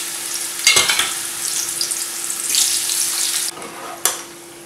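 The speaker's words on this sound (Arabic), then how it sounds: "الزيت سخن، توا باش نبدا نقلي القرع." Pumpkin pieces sizzle as they fry in hot oil for a vegetable tagine, a close, continuous crackling hiss with a couple of sharp clatters from handling, no voices.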